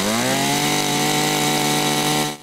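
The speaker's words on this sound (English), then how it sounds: "First step," A power drill bores into a maple tree to tap it for sap, with a loud, sustained motor whine that rises quickly in pitch, holds steady and cuts off at the end.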